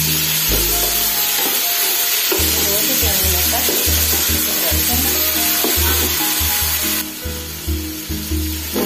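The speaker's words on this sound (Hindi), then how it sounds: "टमाटर अदरक और लहसुन को 2 मिनट फ्राई करने के बाद" Tomato, ginger and garlic sizzle and fry in a pan, with a steady hiss broken by repeated scraping stirs of a spoon, close and clear.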